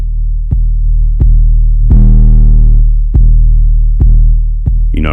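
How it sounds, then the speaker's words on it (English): Booming, distorted 808 bass notes from the VIPSL 808 Bangz Kontakt instrument play in a sequence of sustained, throbbing hits, loud and close, with a brief synth flourish at the end. "For those distorted 808s, and again, the EQ is very manageable."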